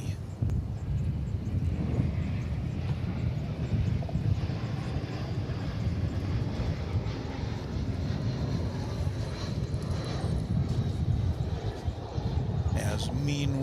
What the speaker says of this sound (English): It's an Embraer 190. It's flight 2689 off to Mexico City.